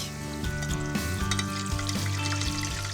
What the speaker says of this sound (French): Je cuis mes 3 bouchées dans de l'huile à 180 degrés.